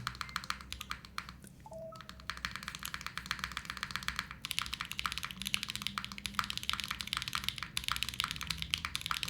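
Fast, steady clicking of keys on a mechanical keyboard with PBT keycaps, heard close and alone, with dense rapid strokes and a brief pause near the start.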